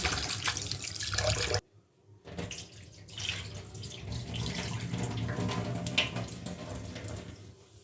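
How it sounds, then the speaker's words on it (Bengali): Flattened rice (chira) is rinsed in a bowl of water and the water poured off, making a close splashing and trickling sound that pauses briefly and then continues. "একবার ধুয়েছি আর একবার ধুয়ে পানি ফেলে নেব"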